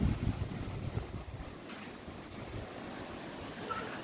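Strong wind gusts before rain under a dark, cloudy sky near water, a steady, fairly quiet rushing roar buffeting the microphone, with no one speaking.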